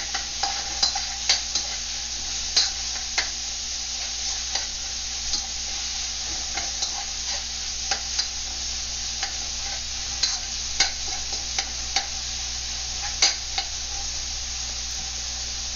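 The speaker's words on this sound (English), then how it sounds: "We're going to stir it up a bit more." Mapo tofu with browned ground pork sizzles steadily in a pan while a utensil stirs it, producing a constant close frying hiss punctuated by irregular light scraping clicks, with no voices.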